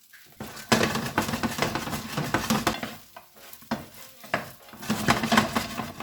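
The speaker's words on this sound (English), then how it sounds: "Once your pan's hot enough, add your croutons. Fry them until they start to turn golden." Croutons sizzle and fry in a hot pan for a Caesar salad, with steady crackling and repeated scraping stirs of a utensil against the pan, close and clear, no talk.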